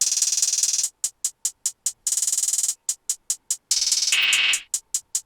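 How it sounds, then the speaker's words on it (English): A trap hi-hat pattern in FL Studio from a Trap Phobia kit, with crisp ticking hits broken by long rapid rolls, plays loud and alone. "I went with a pretty basic hi-hat pattern with some longer hi-hat rolls."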